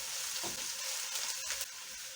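Chopped onions sizzle in hot oil in a pan, a steady bright crackle with scattered louder pops, close up and fairly quiet, with no talking.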